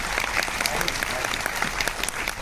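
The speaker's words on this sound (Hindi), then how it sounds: "मैं चाहता हूँ ताली बजा के उन्हें आशीर्वाद तो आप दे सकते हैं।" Audience applause at a live comedy award show, a dense steady wash of clapping from a large crowd that stays loud and continuous throughout.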